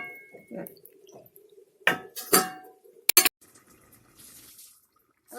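A lid set on a pot of thin rohu fish curry with cauliflower gives a few close metallic clinks and clatters after a soft liquid splash, then quiet simmering.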